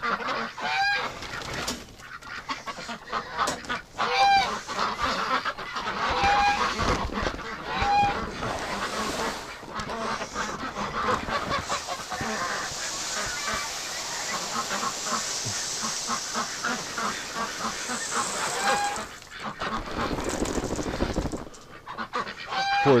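Domestic ducks and geese kept over winter honk and quack in a farmyard, with bursts of calls recurring through a steady hiss of background noise across the whole stretch.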